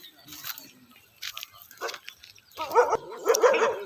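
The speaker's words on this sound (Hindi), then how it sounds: "अब देखिए, यही जो अभी कुत्ता भौंक रहा है," A dog barks repeatedly on a farm with damaged crops, a few sharp nearby barks followed by louder rapid barking at the end, with a person talking in between.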